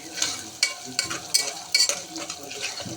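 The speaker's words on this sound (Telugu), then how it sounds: "కొద్దిగా అల్లం వెల్లి పేస్ట్ వేసా పచ్చివాసన పోయే వరకు ఫ్రై చేసుకోవాలి" Ginger garlic paste fries in a pan, a soft steady sizzle broken by several sharp scraping strokes of a spoon at close range, with no talking.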